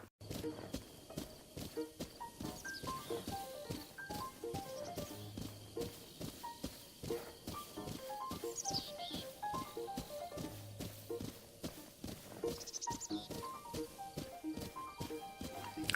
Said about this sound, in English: I could have honestly galloped on my horse over rolling fields for hours